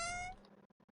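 A cat in the video game Stardew Valley gives one short, clear, high-pitched meow, followed by a few soft, faint blips.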